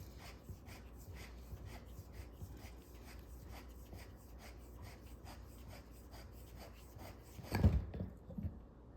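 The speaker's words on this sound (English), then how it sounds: "Turn the barrel counterclockwise to loosen and remove it." The barrel of a Kobalt 24V grease gun is twisted counterclockwise to come off, giving a quiet, repeated rasping scrape. A louder clunk sounds near the end.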